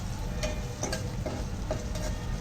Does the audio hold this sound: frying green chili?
yes